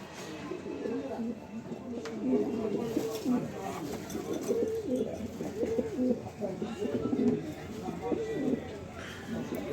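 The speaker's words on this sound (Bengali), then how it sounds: "সুপার কোয়ালিটি এক পেয়ার পাইট রেসার খুবই সুন্দর কবুতর ডিমের উপরে আছে" A pair of racing pigeons, sitting on eggs, coo softly and repeatedly in low rolling calls, with a person talking over them throughout.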